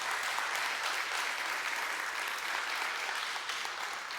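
A church congregation applauds during a Spanish-language sermon, a dense, steady roar of many hands clapping that holds level for about four seconds, with no voices over it.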